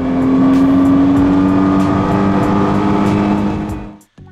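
A 2014 Nissan GT-R engine roars loudly at high revs, between 4,500 and 7,000 rpm, its sustained, strained note climbing steadily before cutting off abruptly near the end.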